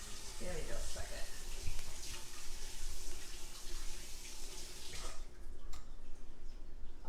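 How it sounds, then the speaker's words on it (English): Running tap water pours steadily into a sink while hands are washed in a kitchen, a continuous broadband splash that stays fairly constant and eases near the end. "let me go ahead and wash my hands"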